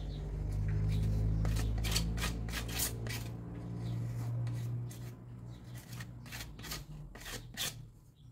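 A knife cuts through material for a homemade brick mold, making a few rough scraping strokes up close. The strokes are separated by short pauses and grow lighter toward the end, with no voices.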